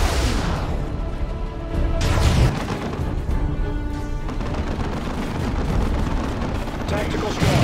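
Sustained battle din from the Warhammer 40,000 strategy game Dawn of War 2: Chaos Rising, with dense gunfire and booming explosions rolling continuously, a heavier burst around the two-second mark, and voices mixed in among the combat.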